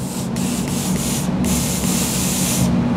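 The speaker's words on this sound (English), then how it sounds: "We're going to do a test spray to make sure our gun's working properly." A spray gun test-sprays rust proofing in a steady, close hissing blast of fine mist, with brief rhythmic pulses near the start and a short pause midway.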